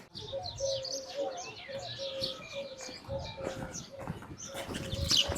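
Pigeons and peacocks call over a busy outdoor backdrop in a Thar village in Sindh: soft cooing mixed with chirps and occasional louder cries, with faint voices in the distance.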